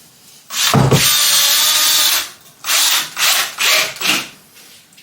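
Power drill driving a screw into wood while building a workbench, with one long whirring run followed by three shorter bursts as the screw is seated, loud and close with no talk.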